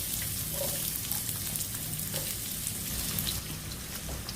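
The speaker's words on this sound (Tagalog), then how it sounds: "So, magigisa na tayo. So, unahin natin ang sibuyas." Onion sautés in hot cooking oil, a dense continuous sizzle with crackling spatter close by, steady and fairly loud, with no one talking.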